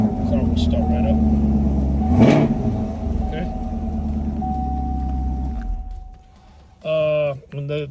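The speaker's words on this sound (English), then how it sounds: "The car will start right up." A Chevrolet Camaro fitted with a kill-switch immobilizer starts remotely from the key fob and idles with a steady low rumble. After about five seconds it cuts off, and then a short pitched electronic chime sounds. People talk over the engine.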